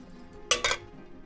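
Two quick metallic clanks as an 8-inch MacPack frying pan is knocked or set down inside a hut, close and sharp against a quiet room.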